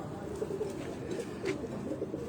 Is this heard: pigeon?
yes